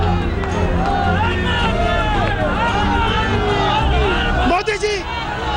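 A large crowd of supporters around Prime Minister Modi's convoy during a roadshow: loud, dense crowd noise close by, with overlapping voices, shouts and whoops that continue throughout.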